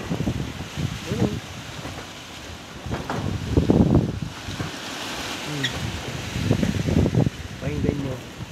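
Strong wind blowing over a rooftop where tin roofing sheets and a pigeon house were torn loose, heard as a steady rushing roar that swells and fades in gusts while people talk nearby.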